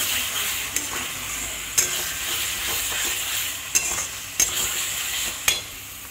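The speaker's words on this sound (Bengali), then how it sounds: "কষাতে কষাতে তেল ছেড়ে দিয়েছে মশলা থেকে" Spice paste fries in oil for a chitol fish muithya curry, a steady close sizzle broken by about six sharp scrapes and knocks of a spoon stirring against the pan.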